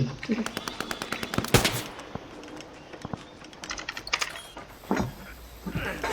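Machine gun fire in the World War II shooter Hell Let Loose, loud rapid bursts and single sharp shots close by, with a voice speaking briefly amid the firing.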